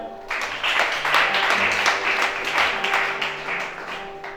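A church congregation breaks into applause, a full, continuous roar of clapping that rises quickly and stays loud for several seconds over a faint steady tone.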